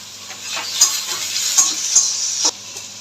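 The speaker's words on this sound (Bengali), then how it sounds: "দিয়ে এটাকে এবার ভালো করে ভাজা ভাজা করবো" Pointed gourd paste fries in a pan with turmeric, salt and a little sugar, giving a close, continuous sizzle broken by repeated scraping stirs of a spatula.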